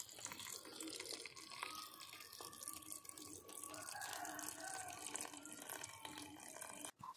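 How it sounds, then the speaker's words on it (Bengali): Water poured into a pot of cooking rice, a soft, steady trickle and splash heard close and continuous for several seconds with no speech. "তো এখন দেখি ভাতের মধ্যে একটু জল দেব।"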